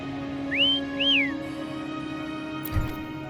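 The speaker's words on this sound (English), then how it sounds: "Try whistling." A person whistles two short rising-and-falling notes to call a creature named Foam in a video game, clear and near over a faint background hum, followed by a soft thump.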